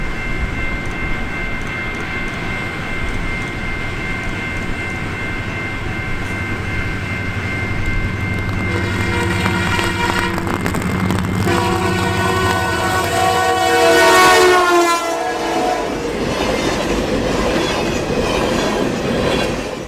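The CPKC Holiday Train rumbles past close by on the Carberry subdivision, its horn sounding long sustained blasts midway through, with the roar of the cars continuing steadily to the end.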